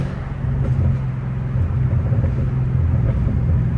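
Supercharged Dodge Hellcat Redeye running off throttle, a steady loud engine drone with a sustained blower whine riding over deep low rumble, close and continuous without voices.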